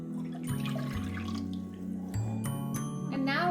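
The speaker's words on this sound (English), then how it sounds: "The next thing we're going to pour in is water." Water is poured into a homemade clay mixture, a close, gurgling trickle with a few splashes, and voices talk briefly over it.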